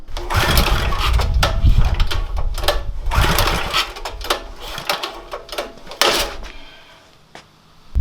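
Pull-cord start attempts on a street go-kart engine, with repeated rattling yanks and brief sputtering bursts in an irregular rhythm, close and loud, ending in quiet.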